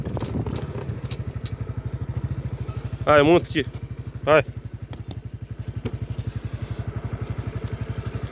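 Motorcycle engine idling steadily up close with a fast, even putter throughout, as people talk over it.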